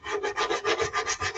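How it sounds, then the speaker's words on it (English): Sandpaper of 100 grit rubbing against a turned wooden heart-shaped gift box on a lathe, a rhythmic rasping swish repeating about six times a second, close and steady with no talk. "It's sanding now, and sanding."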